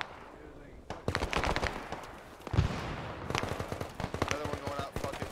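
Grenade blast in Arma 3 during a Vietnam-era battle in Huế City, a single deep thud landing midway through dense, rapid gunfire that continues before and after.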